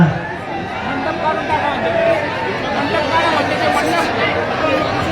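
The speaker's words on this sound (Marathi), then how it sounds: "इकडची बाजूला ना जास्त गर्दी झाली" A large outdoor crowd at a mass political gathering, a dense continuous babble of many voices chattering at once, loud and close, with no single voice standing out.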